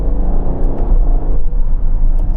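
A 725hp Ferrari Purosangue SUV on the move, its engine a loud, steady low rumble with road roar, heard close and continuous from inside the car without talk.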